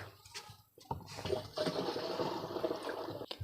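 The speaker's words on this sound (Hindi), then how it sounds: "ये लिक्विड डालेंगे।" Homemade neem oil pesticide liquid poured into a container of water, a soft splashing trickle that starts after a brief pause and runs steadily for a few seconds, fairly quiet and close.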